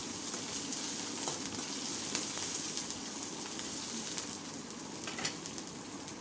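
Cumin, mustard seeds, curry leaves, crushed garlic and green chillies sauté in hot oil, a dense, even sizzle that crackles continuously at moderate loudness with occasional soft stirring sounds, and nobody speaks.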